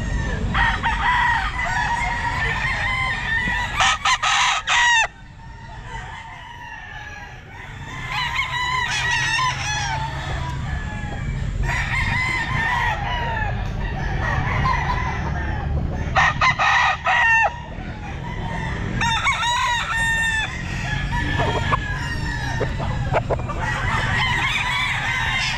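Young gamecock stags, gamma grey and Palawan gold birds, crow loudly and repeatedly at the Grotto pet market, overlapping calls in a busy chorus with clucking between them.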